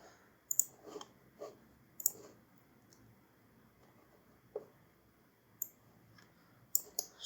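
Sharp computer mouse clicks in the Unity editor, arriving singly and in quick pairs at irregular intervals with quiet gaps between, close and fairly soft, no talking.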